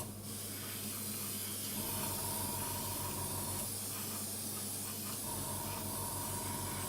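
A paint airbrush runs at a raised pressure while coating a model kit, making a steady, loud, close hiss that continues for the whole stretch with a faint rhythmic compressor pulse underneath.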